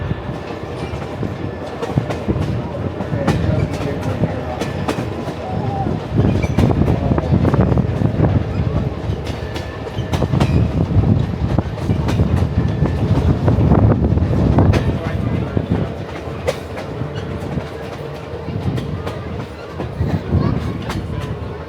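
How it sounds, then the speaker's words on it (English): A Grand Canyon Railway passenger train rolls steadily along the track with continuous rumbling, clickety-clack of wheels over rail joints and gusts of wind noise, heard from aboard, with people talking at times underneath. "this train is actually massive"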